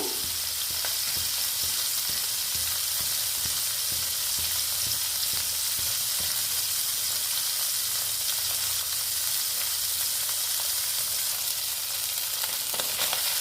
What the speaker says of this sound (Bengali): দিয়ে এবার মাছটা খুব সুন্দর কড়া করে ভেজে নেব